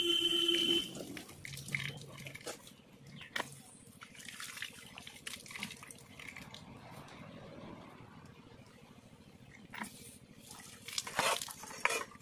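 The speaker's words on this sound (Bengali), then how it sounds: "একটু মেজে দিলাম, ধুয়ে দিলাম" Dishes are washed under running tap water, with a continuous splash and trickle broken by irregular clinks and clatters of utensils, close by.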